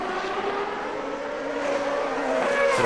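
A CART race car screams at top revs along the three-quarter-mile front straightaway in Mexico City qualifying, a sustained high engine whine building slightly in loudness, steady and close with no talk.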